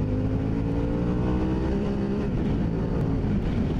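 A Harley-Davidson Pan America 1250 Special motorcycle is ridden out of a hairpin bend, its engine drone steady and loud with a dense, continuous low rumble and no pauses.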